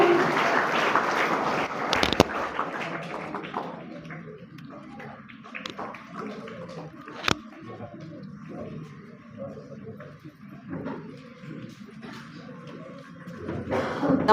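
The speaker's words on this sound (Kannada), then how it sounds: "ಎಲ್ಲ ವಿದ್ಯಾರ್ಥಿಗಳು ಜೋರಾಗಿ ಚಪ್ಪಾಳೆ ಮುಖಾಂತರ ಈ ಒಂದು ಕಾರ್ಯವನ್ನು ಯಶಸ್ವಿಗೊಳಿಸಲು" Students applaud at a school ceremony where honors are being handed out, a brief burst of clapping at the start that gives way to a person speaking over a quieter room, with a few taps and knocks.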